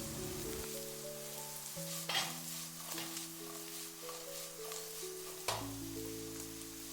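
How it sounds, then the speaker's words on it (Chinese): Taro pieces stir-fried with a little salt in a hot wok sizzle steadily, with a couple of louder scraping tosses under a soft background music tone. "接下來我們要加入少許的毛毛鹽，快速翻炒均勻"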